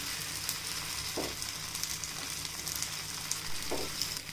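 Kuli paniyaram frying in castor oil in a pan, hissing with a steady quiet sizzle as the pieces are turned, with two soft scraping clicks from the turning tool and no voices.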